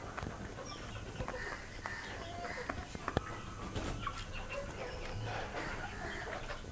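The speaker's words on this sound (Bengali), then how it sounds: "তবে সবগুলোই পিওর দেশি মুরগি" Pure native desi hens clucking on a farm, soft scattered clucks and fowl calls amid faint background noise, fairly distant and quiet.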